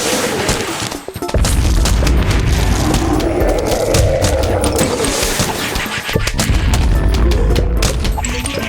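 Explosions from the Plants vs. Zombies: Replanted video game in a Fog endless level against Gargantuars, a dense, continuous roar of booming blasts and crashing impacts that barely lets up, loud and close throughout.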